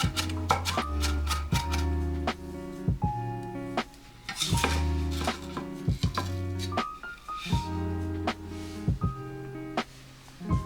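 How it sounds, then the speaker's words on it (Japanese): A knife finely chops onion on a cutting board in quick, even runs of taps, pausing briefly between bursts, close and clear with no talking. "で玉ねぎはね同じようにみじん切りでいきましょう。"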